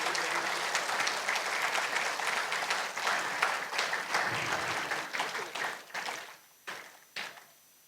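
Audience clapping at a Shri Gopalnath Maharaj jayanti festival, thick steady applause from a large crowd that thins out toward the end into a few scattered, separate claps.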